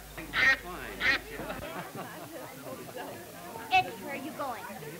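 Duck quacking in a 1934 film, a few loud nasal quacks early and again later over a scratchy old soundtrack with voices chattering between them.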